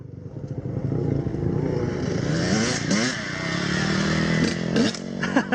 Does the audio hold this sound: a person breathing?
no